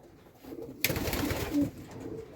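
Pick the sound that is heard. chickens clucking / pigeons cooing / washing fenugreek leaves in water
pigeons cooing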